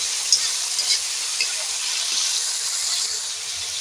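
Onion and tomato paste fry and get stirred in a pan, with a continuous close sizzle and a few soft scraping stir sounds along the way.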